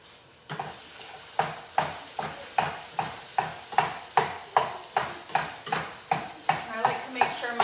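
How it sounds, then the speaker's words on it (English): Sausage for Zuppa Toscana cooks in a pot while a utensil stirs and scrapes it in a steady rhythm, each stroke a distinct scrape over a light sizzle, close and moderately quiet with no talking. "I like to make sure my sausage is all the way cooked through, so we'll cook it just for a little bit longer"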